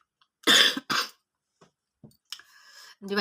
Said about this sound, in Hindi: मेरे को थोड़ी सी खांसी अभी भी है